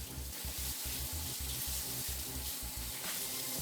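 Octo-Shot parts being washed in hot soapy water, with rhythmic sloshing and splashing strokes over a steady running-water hiss, close and continuous without voices.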